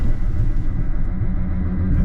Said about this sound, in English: That is the anti-lock brakes.